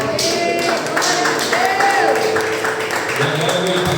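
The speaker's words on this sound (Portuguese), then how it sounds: "Você pode aplaudir Jesus?" A church congregation applauds during a worship service, sustained clapping mixed with voices and some tonal sounds, fairly loud and continuous throughout.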